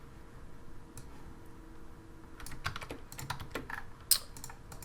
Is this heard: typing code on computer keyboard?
yes